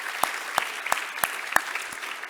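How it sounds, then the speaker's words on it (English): An audience applauding, with distinct claps landing in a steady, evenly spaced rhythm over a continuous wash of crowd noise. "Let's give them a round of applause too."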